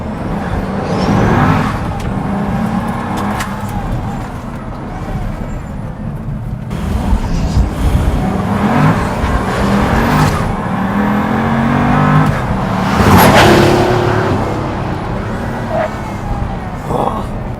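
A Pagani Huayra supercar pulls hard from inside the cabin, its engine roaring and surging loud and close through repeated acceleration and gear changes, with a brief voice in the mix.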